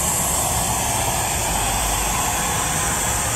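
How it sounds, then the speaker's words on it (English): An air compressor runs nearby as a loud, steady, broadband roar like a jet engine that holds unchanged throughout, with no talk. "they got an air compressor going off over there"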